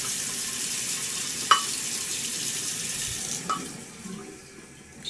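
A water tap runs steadily into a shaving lather bowl, a constant close hiss and splash with a couple of brief clinks partway through.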